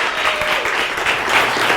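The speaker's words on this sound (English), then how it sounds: "Can I get a big round of applause because we're all excited?" A short burst of dense audience applause at a town hall meeting, loud and continuous, with no speech over it.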